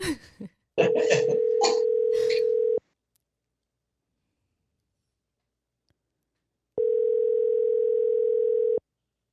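A phone call rings out through a Bluetooth speaker, two long steady electronic ring tones separated by a silent gap, with people briefly talking just before the first tone.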